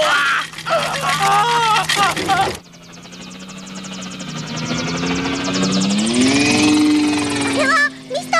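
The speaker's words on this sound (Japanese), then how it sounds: "これはミスターランカーのヘリコプター。でも変な飛び方。" A toy helicopter in a retro Japanese puppet show whirs with a buzzing engine drone that wavers and rises in pitch, flying erratically, after a voice speaks briefly at the start.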